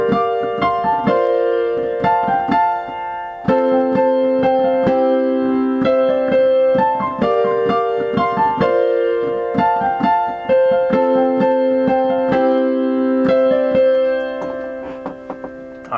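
A piano plays a song with both hands together: sustained chords underneath and a repeating melody on top, in a steady rhythm for about sixteen seconds. The playing is close and clear, with no talking.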